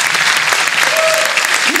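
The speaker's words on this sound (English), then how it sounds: "We can clap for Sicily." Loud, steady applause from a jazz concert audience at Teatro Metropolitan in Catania, dense clapping filling the whole moment, with a brief whoop or cheer rising near the end.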